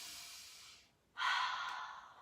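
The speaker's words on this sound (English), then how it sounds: "3 belly breaths." Two slow belly breaths during a Pilates mat exercise: a long, soft exhale fades to near silence, followed by a louder, close airy breath.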